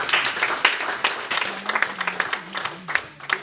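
A church congregation applauds and cheers at an Easter Sunday service, a loud sustained burst of many clapping hands mixed with voices close by.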